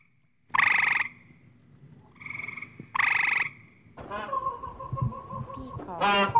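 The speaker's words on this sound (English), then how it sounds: "frog." A frog croaks in loud, separate, raspy calls, two strong ones, then a quieter one, then a longer rattling croak, close and with no voices.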